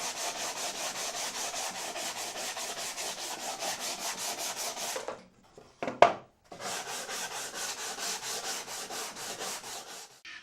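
Rhythmic back-and-forth sanding on wood, fast even strokes, a brief pause midway with a small knock, then the scraping resumes.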